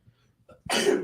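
A single loud, breathy sneeze bursts out after a brief quiet moment with faint sounds.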